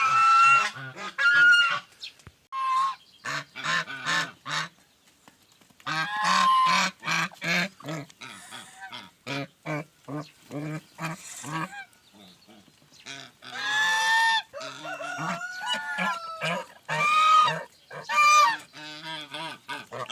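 Loud, repeated honking from a goose nearby on a farmstead, in bursts with short pauses, with other fowl calls mixed in.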